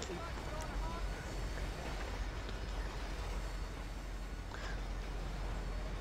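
Rumbling of a moving train in the video game GTA V, a steady loud continuous roar with low rail noise throughout.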